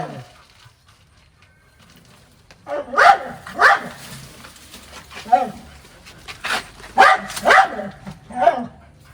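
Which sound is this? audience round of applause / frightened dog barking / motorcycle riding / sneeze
frightened dog barking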